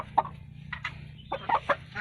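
Chickens on a poultry farm cluck in short, close bursts, several quick calls scattered over two seconds against a low steady hum.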